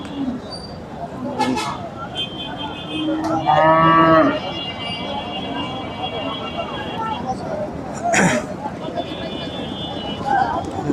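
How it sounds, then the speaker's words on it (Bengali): Sahiwal cattle at a rural livestock market give a loud, drawn-out moo nearby, with another lower moo earlier, over crowd bustle and someone talking, plus sharp clatters and a faint horn-like tone. "তারপরে এখানে একটা গরু দেখা যাচ্ছে"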